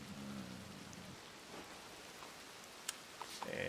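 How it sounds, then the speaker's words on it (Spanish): Soft rain falls in the RedM roleplay game (Red Dead Redemption 2), a faint, steady hiss with a few brief clicks and tones near the end. "Vamos a algún sitio donde no nos vaya a llover todo el rato encima."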